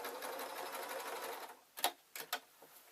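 A sewing machine stitching a flat section of a skirt, a fast steady whir for about a second and a half, then a few short separate bursts of stitching, close and quiet, with no talk.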